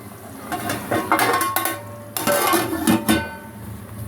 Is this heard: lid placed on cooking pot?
yes